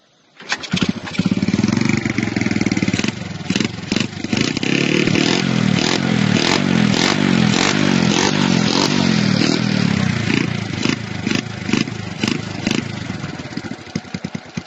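A Honda Wave 100S motorcycle engine starts and runs close by with a rapid, clattering idle, picking up briefly in short revs throughout.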